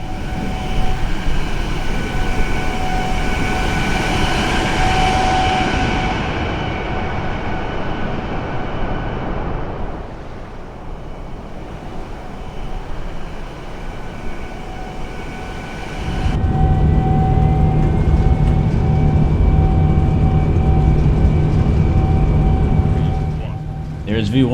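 A heavy airliner rolls down the runway for takeoff in Microsoft Flight Simulator, its engines roaring and rumbling steadily as the noise swells and shifts, with a pilot's voice talking over it.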